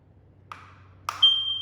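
A newly installed smoke detector gives two short electronic chirps a half second apart as its wires are connected, the second trailing into a thin high tone, close and clear against near silence.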